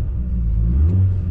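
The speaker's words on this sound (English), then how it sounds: "It does have a custom exhaust on this thing." A Chevy Beretta GTZ coupe with a custom exhaust revs, a deep steady low rumble that swells slightly in the middle, close and loud with no voices.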